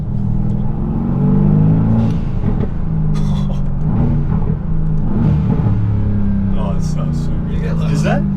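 A stock-engined Mercedes-AMG GT S widebody with a blow-off valve rumbles and revs close by in a low, steady drone in New York City, with people talking excitedly over it.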